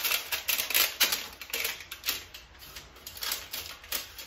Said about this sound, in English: Our little packet here, we're going to cut this open and check this blade out.